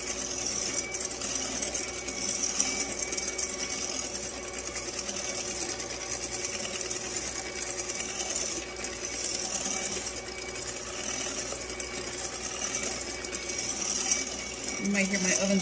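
A stand mixer runs steadily at speed 4 whipping French macaron meringue after the sugar is added, a continuous close mechanical whir and hum lasting throughout with no breaks.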